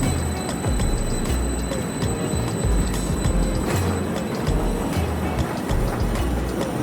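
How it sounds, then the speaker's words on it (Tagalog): A train at Cambridge North station, a loud, close rumble of rolling stock with clattering wheels and broadband rail noise that holds steady throughout. "So this is the train."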